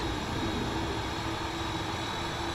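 Steady, dense roar of a fighter jet engine in Microsoft Flight Simulator, a constant broadband rumble with a faint tonal whine, continuous and fairly loud with no talk over it.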